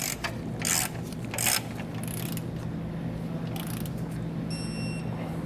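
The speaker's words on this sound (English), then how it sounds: "we're going to take a 15/16 inch socket, and we're going to go ahead and snug down this fastener here" Ratchet wrench with a 15/16 inch socket snugging down a base plate fastener on a 2020 Chevrolet, giving a few short bursts of clicking over a steady low hum, close by.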